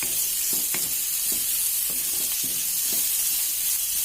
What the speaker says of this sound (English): I'm going to fry it till it becomes a little pale but not brown